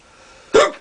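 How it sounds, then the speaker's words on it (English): A single sharp hiccup, close and short, from a man after eating a Carolina Reaper 2013 chili pod, against quiet background. "Still got the hiccups."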